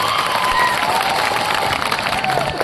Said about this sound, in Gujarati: એમના માટે એકવાર તાળીઓના ગણગણાટથી એમનું સ્વાગત થઈ જાય